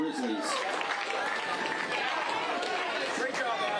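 Crowd applause at the 2021 NCAA Division II men's cross country championship for the national runner-up team: a dense, steady roar of clapping and cheering that runs the whole clip, with an announcer's voice over it.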